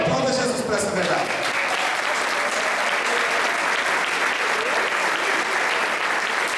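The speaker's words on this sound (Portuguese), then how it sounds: "Então aplauda Jesus por essa verdade." A church congregation applauds at a seminar on spiritual warfare, a loud, sustained roar of clapping that swells in just after a preacher's voice fades and then holds steady.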